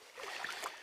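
Canoe paddle strokes from the stern of a solo canoe with a ballast bag in the bow, on a lake in Algonquin Park; soft, steady water swishes and splashes, faint and close, with no talk.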